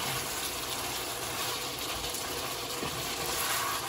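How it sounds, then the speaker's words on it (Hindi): Black pepper chicken fries in a pan with a dense, close crackling sizzle that holds steady and loud from start to finish, with no talking. "अब देखिए ये भून रहा है"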